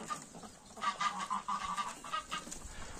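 Rouen ducks grazing on grass make low, soft honks and quacking calls in several short bursts, fairly quiet and close, with rustling in the background.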